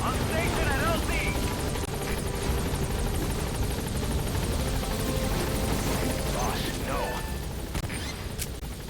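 Helicopter rotor noise from the Pequod support chopper in Metal Gear Solid V arriving at a landing zone, a steady loud whirring drone sustained throughout, with game effects and speech layered over it.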